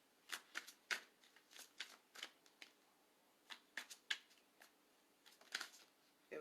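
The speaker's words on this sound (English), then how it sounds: "We're going to pull 3 cards." Tarot cards being shuffled and drawn, heard as close, quiet bursts of riffling and flicking paper that come in quick clusters with short pauses between, and no talking.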